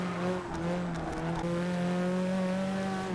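Opel Manta race car in Forza 6, engine droning loudly and steadily at high revs with strong harmonic tones, shifting pitch slightly across a few seconds, close and continuous with no talk.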